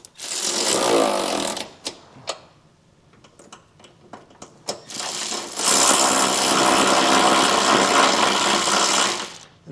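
Tool tightening trailer hitch receiver bolts on a 2022 Ford Edge, loud bursts of rapid mechanical whirring separated by a quieter stretch of sharp clicks and ratchet-like ticks, close up.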